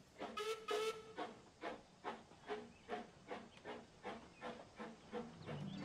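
The steam engine Rheneas sets off up the line, with two short whistle blasts followed by a steady run of rhythmic chuffs that start quickly and continue evenly, close by and moderately loud.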